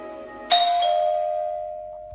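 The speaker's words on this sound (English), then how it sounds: "the bell rang" A doorbell chimes once, a bright ding-dong whose tone rings out and slowly fades over a couple of seconds in a quiet room.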